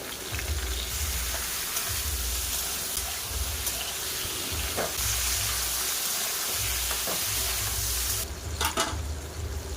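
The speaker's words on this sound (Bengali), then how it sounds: "সয়না ডাঁটা, বেগুন, আলুকে ভেজে নেব।" Drumsticks, brinjal and potatoes fry in oil with a constant, moderate sizzle and a low rumbling hum underneath, punctuated by a few faint clicks.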